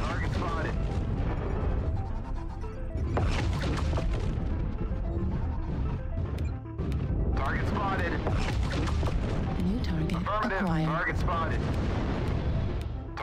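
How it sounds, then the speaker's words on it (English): Airstrike explosions pound around a light mech in a video game, heavy booms and crashing impacts that pile up in dense, chaotic bursts over continuous battle noise, with a voice talking over them. "Sure, just throw an airstrike on me."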